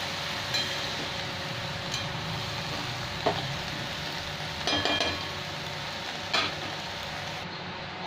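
Kolmi greens and potato fry in a pan, giving a steady soft sizzle throughout, broken by a few clinks of the spatula as the mixture is stirred.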